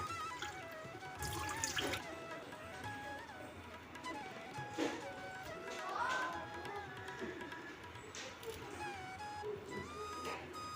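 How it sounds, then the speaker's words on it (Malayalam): Vegetables being washed in water, with soft sloshing, dripping and faucet-like running water at moderate distance, mixed with faint clatter and a little background talk. "എല്ലാം കഴുകി ക്ലീൻ ചെയ്തെടുക്കാം കേട്ടോ"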